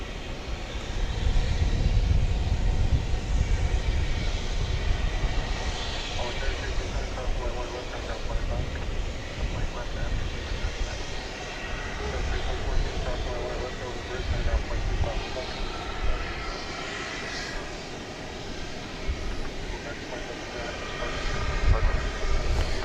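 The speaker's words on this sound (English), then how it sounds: "Taking off there, American Flight 2759, a 737-800 to San Antonio, Texas" American Airlines Boeing 737-800 taking off at DFW Airport, a sustained distant jet roar and rumble that swells and fades over the stretch, with someone talking over it much of the time.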